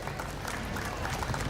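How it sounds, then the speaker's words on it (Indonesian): Crowd applause at the opening of the Danau Tempe festival at RTH Callacu, a continuous wash of clapping held steady throughout a short burst. "Tepuk tangan Bapak Ibu."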